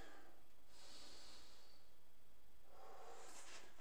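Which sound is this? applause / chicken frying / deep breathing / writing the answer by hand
deep breathing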